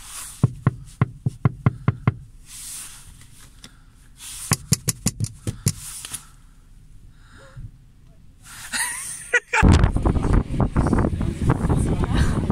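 Strong outdoor wind on a sunny day buffets the microphone in a loud, rough roar that takes over the final few seconds, after earlier sharp clicks and knocks and some voices.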